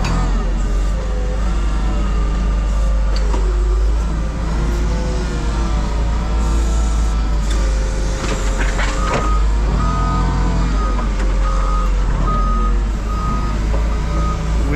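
A Cummins diesel truck engine idles and rumbles loudly and continuously at close range, with repeated reversing beeps and shifting revs layered over the steady drone.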